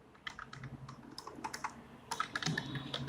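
Code is typed on a computer keyboard with irregular, close clicking keystrokes, sparse at first and then quicker, denser bursts in the second half, with no talk.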